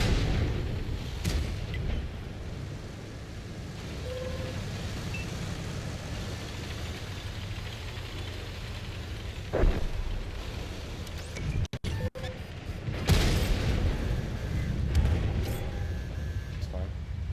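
Tank cannon shots in an armored-vehicle video game: a few sharp, heavy booms spaced several seconds apart over a steady engine rumble, with a voice talking through much of it.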